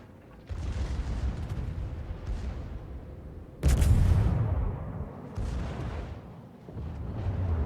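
Heavy naval gunfire and shell hits in World of Warships, a series of deep booming salvos with rumbling tails, one much louder nearby blast in the middle, and further muffled impacts around it.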